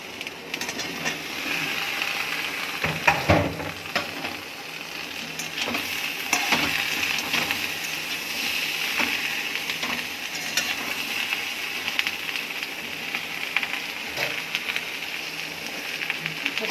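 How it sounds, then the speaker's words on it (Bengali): Mixed vegetables for a curry fry in a pan with a constant, close sizzle, broken by scattered scraping and clattering strokes of a spoon stirring them, and no voices. "সবজিগুলো একটু ভাজা ভাজা হয়ে গেছে।"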